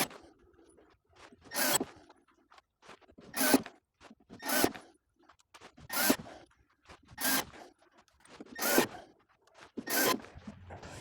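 Screws being driven into plywood to hang a French cleat on a garage wall: seven short, loud whirring bursts from the driver at regular intervals, each a second or so long, separated by quieter handling noises, with no talking.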